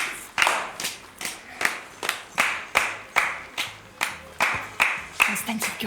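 A small group claps at a children's festive holiday performance, around fifteen sharp, close claps in a steady, slightly uneven rhythm with murmured voices underneath.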